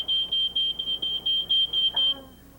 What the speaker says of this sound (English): It's a smoke detector, right?